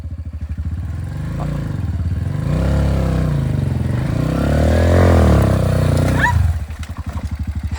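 A motorcycle on a slippery forest trail in Java revs hard, its engine thumping at idle, then surging into loud, strained revving as it climbs over obstacles before dropping back to a rough idle, with brief voices nearby.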